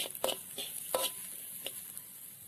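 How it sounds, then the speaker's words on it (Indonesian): Spice paste for an Indonesian eggplant stew is stir-fried in a pan. A soft, steady sizzle runs under several sharp spatula scrapes and clacks against the pan, with no talking. "sekarang bumbunya dimasukkan ya ditumis maksudnya"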